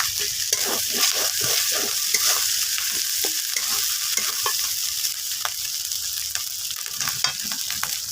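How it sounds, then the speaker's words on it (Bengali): Onion, ginger-garlic paste and chili paste stir-frying in hot oil, a steady close sizzle with repeated scraping stirs of the spatula through the pan, no voices. "পেঁয়াজ আদা রসুনটা একটু তেলে ভালো করে নেড়ে নেব"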